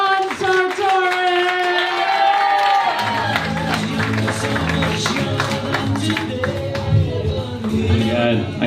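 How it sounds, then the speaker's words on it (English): Audience clapping and cheering for comedian John Sartori at a stand-up show at the PIT Loft, with steady claps under whoops and excited voices throughout. "Let's get a clap going. Keep it going for John Sartori!"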